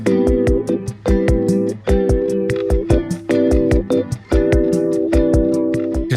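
A song plays as a loud recording, with punchy rhythmic drums, bass and repeated vocal-like harmonic phrases driving steadily throughout.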